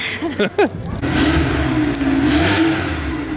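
An old Ferrari engine revs up and then holds a steady, throaty roar nearby, following a few brief engine blips at the start.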